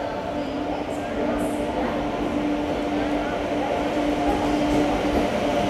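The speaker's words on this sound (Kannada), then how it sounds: "ಇಲ್ಲಿ ನೋಡ್ರಿ ಬಂತು ನಮ್ಮ train 12079 KSR Bengaluru Hubballi Jan Shatabdi express." The 12079 KSR Bengaluru–Hubballi Janshatabdi Express passenger train at a station, a steady, loud rumble with a sustained tonal whine holding throughout at close range.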